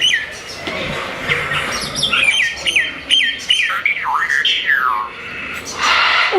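A pet mynah bird sings close up, a lively run of whistles, squawks and sliding chirps in quick bursts, loud and mostly alone with little background.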